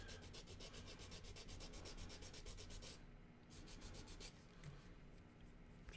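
Small model car parts for Gaslands being sanded by hand, a steady rapid back-and-forth rubbing with a brief pause around the middle before the strokes resume, close and fairly loud.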